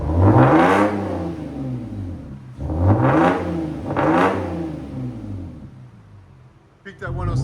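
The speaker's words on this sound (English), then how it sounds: "Here's sound decibels." A 2005 Lexus GS 300 3.0L inline-six with muffler delete and resonators revs hard in three loud bursts with a deep, raspy exhaust note, each rising and falling, followed by a brief quieter idle and a short clatter.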